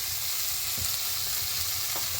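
Cumin powder, red chilli powder and spices frying in a pan for a tengra fish curry, a continuous close, bright sizzle with a few soft stirring scrapes.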